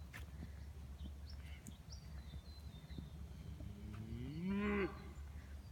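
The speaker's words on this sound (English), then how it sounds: "So here's the cows." A single cow moos near the end, long and rising then falling, against a quiet outdoor paddock background with faint scattered noises.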